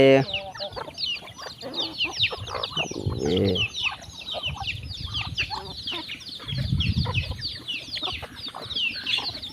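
A flock of chickens clucking and chattering busily nearby, overlapping calls throughout, with a couple of lower, louder squawks rising briefly.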